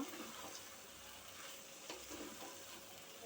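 Pasta being stirred with tomato sauce in a pan, a steady close sizzle and soft scraping and stirring, with no talk.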